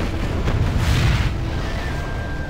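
Rocket bomb explosions in Command and Conquer Generals Zero Hour roll as a loud, continuous low rumble of overlapping blasts and booms, with a faint high tone lingering afterward.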